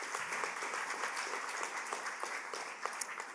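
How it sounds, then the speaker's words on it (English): Applause from a seminar audience at an emergency preparedness event, a steady dense patter of many hands clapping throughout, fairly close and continuous with no voices over it. "Give him a round of applause."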